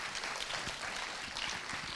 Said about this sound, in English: Can we please have a round of applause for them as we invite them on stage?